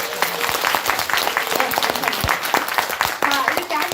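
An audience at an Amway business presentation applauds with dense, close clapping that carries on steadily, a few voices briefly heard among the claps.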